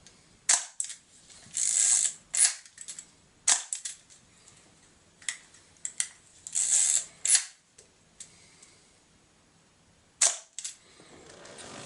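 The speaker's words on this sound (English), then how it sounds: "So here we have, it's a 40-year-old camera and the shutter speeds are working perfectly." A 40-year-old camera's cloth focal-plane shutter fires repeatedly, sharp mechanical clicks and snaps spaced irregularly over several seconds, close up with quiet gaps between releases.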